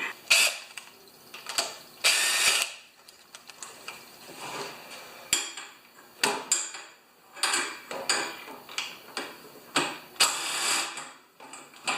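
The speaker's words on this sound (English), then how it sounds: "10mm ratchet wrench" Ratchet wrench working a 10mm bolt on an old Honda in a garage, giving loud, repeated bursts of rapid clicking with short pauses between strokes.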